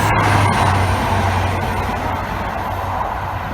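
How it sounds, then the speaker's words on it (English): An East Coast passenger train running from Inverness to London King's Cross rumbles through Doncaster Station, a loud, steady, close roar of wheels and engine with a low hum throughout. "That East Coast train was running all the way from Inverness to London King's Cross"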